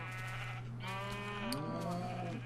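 Several sheep bleat in long, wavering cries in the video game Minecraft over a steady low electronic hum, fairly close and overlapping one another.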